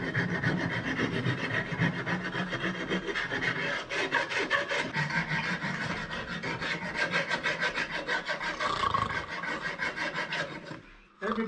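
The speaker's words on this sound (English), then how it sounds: "And then I'm gonna sand the surface a bit." Hand sanding across the surface of a wooden serving tray, brisk rhythmic rasping strokes repeating steadily and close by for about eleven seconds, then briefly pausing near the end.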